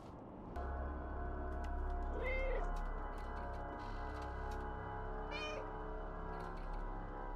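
Cat meowing in the video game Stray, two distinct meows a few seconds apart over a steady humming game ambience with faint ticking, no speech.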